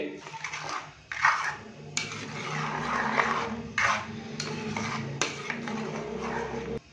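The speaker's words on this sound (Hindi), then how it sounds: "दही डालने के बाद अच्छे से हमने इसको मिक्स कर दिया।" Yogurt is stirred into a pot of white mutton karahi, a spoon clanking and scraping against the metal in irregular knocks over a low, quiet background.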